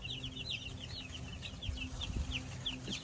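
A group of baby chicks on a farm, kept under a heat lamp in a warm brooder, peep in rapid high-pitched chirps that repeat continuously at moderate volume.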